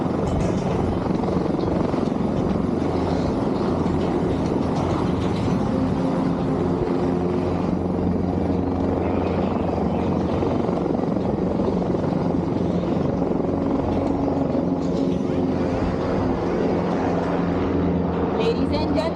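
An Airbus H225M helicopter flies in an airbase aerial display, its steady loud rotor thrum and turbine roar continuing throughout with no break.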